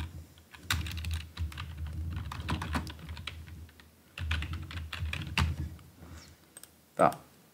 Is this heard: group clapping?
no